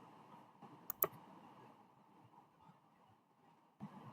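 Two sharp, close mouse clicks in quick succession, pressing an on-screen access button, followed by quiet room noise and a faint soft click near the end.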